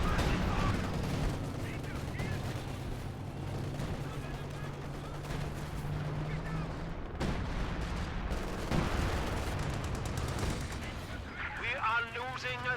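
A Company of Heroes 2 battle rumbles with a steady artillery barrage and scattered gunfire, heavy booms rolling under constant low battlefield noise.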